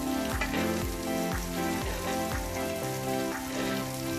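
Melted margarine basted over a beef steak in a hot pan, a steady close sizzle with irregular spoon clinks and splashes, background music tones running underneath.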